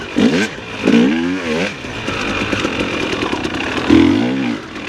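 A 350 dirt bike rolls along in third gear, its engine loud and close with rising and falling revs and a steady buzzing drone throughout, no one talking.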